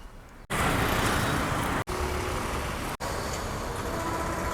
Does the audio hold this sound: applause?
no